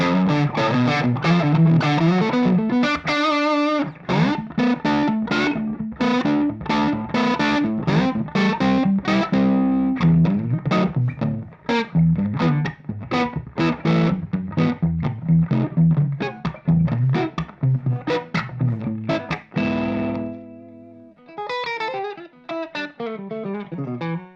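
Driven electric guitar riffs played through a Jackson Audio Broken Arrow overdrive pedal with the boost off, gritty and loud, with fast choppy chords and single notes running continuously, no talking over it.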